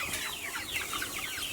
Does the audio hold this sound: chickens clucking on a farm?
yes